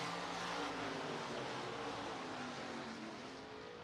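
IMCA race cars racing at Boone Speedway in Boone, Iowa, a steady broad engine roar that swells and then eases slightly over a few seconds, with no talk.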